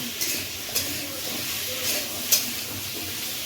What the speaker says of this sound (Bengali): আলুগুলো দিয়ে একটু কষে নেওয়ার পর এবার তাতে কুমড়োগুলো দেওয়া হলো